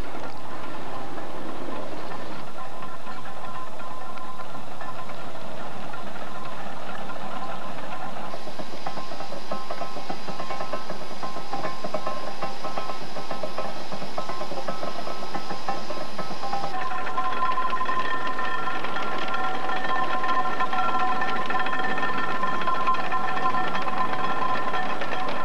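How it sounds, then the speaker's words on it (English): Steam ploughing engine at work in a field: a loud, continuous mechanical chugging and clattering that runs throughout, shifting in tone partway through, with no talk over it. "The two ploughing engines work on opposite sides of the field"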